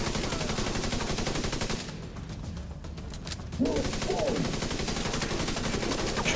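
Rapid automatic gunfire in The Division 2, Warlords of New York, a dense continuous stream of loud shots that drops away briefly before resuming, with a short voice under the firing.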